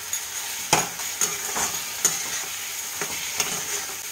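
Fennel paste spice mix with salt and sugar stir-fried in oil for a Bengali koi fish curry, a steady close sizzle broken by several sharp scraping strokes of a spatula at an irregular rhythm, with no voices.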